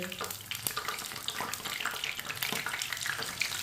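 Egg pakoras sizzle steadily in hot oil as they are flipped and turned, a continuous bubbling crackle with small clicks and splashes close by, no voices over it.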